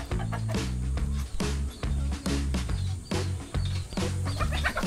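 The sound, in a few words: chicken clucking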